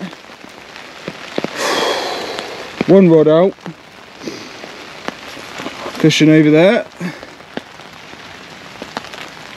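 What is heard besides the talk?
rain falling at winter carp fishing reservoir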